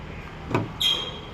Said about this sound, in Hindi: ये मैं दरवाज़ा बंद करूँगा